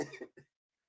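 A man coughs in two quick, raspy bursts close by, a longer hacking one then a short follow-up, before silence.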